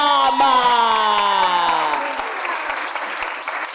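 A crowd applauds poet Zekete Lozama at the Chalkboard Slam poetry competition, steady clapping at moderate distance under a held, fading musical chord.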